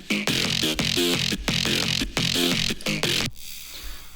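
Two layered bass synths from a drum and bass track play together as a gritty, growling melodic riff of rapid repeated notes in tight syncopated bursts, loud and dense, cutting off abruptly near the end into a fading tail.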